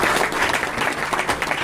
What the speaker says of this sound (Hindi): प्लीज उनके लिए एक जोरदार ताली